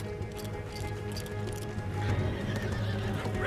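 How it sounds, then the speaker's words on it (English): Horses neighing and galloping with clip-clopping hooves in the video game Red Dead Redemption 2, a dense, steady mix of whinnies and hoofbeats that grows a little louder toward the end. "See the horses?"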